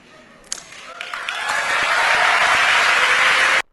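An audience applauds during Meghan's speech at One Young World, a sustained wash of clapping that builds steadily over a few seconds and then cuts off abruptly, following a couple of sharp knocks near the start.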